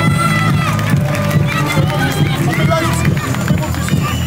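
A large crowd at a gladiator combat event claps, cheers and shouts for Marc Léotari, a loud, busy mix of voices and applause running continuously with music-like tones underneath.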